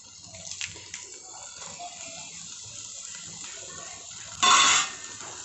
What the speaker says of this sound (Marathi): याच्यामध्ये आपण गरम पाणी टाकून